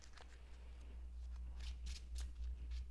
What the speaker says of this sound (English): Then we'll shuffle the deck.